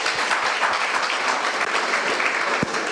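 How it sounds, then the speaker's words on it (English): Students at a live blockchain hackathon session in Vizag clap for themselves, giving a few seconds of steady, fairly loud applause filling the room with no talk over it. "Clap for yourself."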